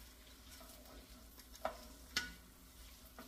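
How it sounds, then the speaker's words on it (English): Shrimp stew with okra being stirred in a pot: quiet scraping with two sharp clinks of a spoon against the pot rim, faint over a low kitchen background. "We're going to give it a stir."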